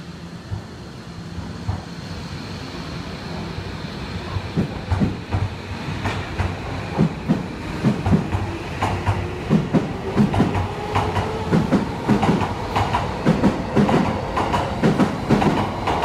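A Tokyo Metro Hibiya Line subway train rumbles and clatters along the platform at Minami-Senju Station, wheels clicking in a quickening rhythm, steady and fairly close with no talking.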